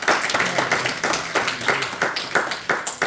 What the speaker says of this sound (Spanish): Démosle ese aplauso fuerte.